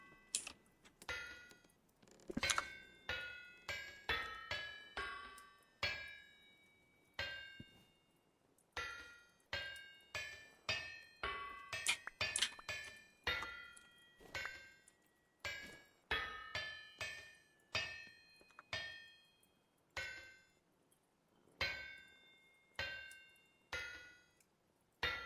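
A hammer strikes metal repeatedly while chainmail is forged in a survival video game, bright ringing clangs in quick irregular bursts with short pauses, close and distinct with no talking.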